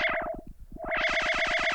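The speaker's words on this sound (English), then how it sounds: "you are hearing the Microfreak's audio going through the Circuit Tracks" Arturia MicroFreak synthesizer routed through a Novation Circuit Tracks, playing a fast, evenly pulsing sequence of bright, distorted notes with a filter sweep that closes and then opens again, steady and loud throughout.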